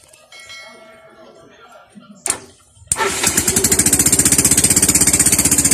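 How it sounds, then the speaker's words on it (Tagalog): A starter motor jumpered to crank an engine: after a quiet stretch and a brief click, a loud, steady, rapidly pulsing whir kicks in abruptly and runs without a break to the end. "try natin itong gagawin kung gagana ba siya ang ating starter motor"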